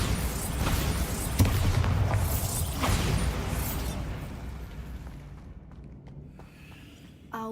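A Bombarda spell blast in the Hogwarts Legacy game: a loud sustained boom with debris and rumble that slowly fades over several seconds, followed by a quieter low tail and a small thump at the end; no speech.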